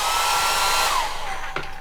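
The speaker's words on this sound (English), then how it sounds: "Just underneath you do have your little built-in hairdryer." A small built-in hair dryer in a cruise ship cabin whirs with a steady high-pitched whine, the tone dropping briefly as it changes speed, then running on.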